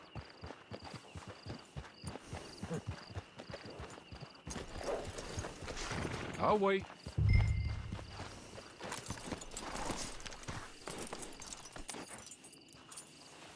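Horse hooves clip-clop in the Western video game Red Dead Online, an even walking rhythm of hoofbeats close by, joined briefly by a whinny and game sounds, with a short line of speech near the start.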